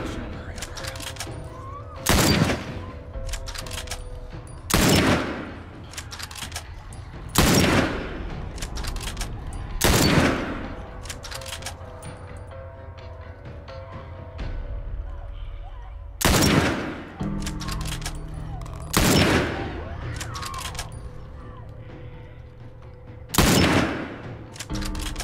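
Gunshots ring out in The Last of Us during a suburban stretch of play, eight or so loud, sharp reports spaced a few seconds apart over a steady background of game ambience.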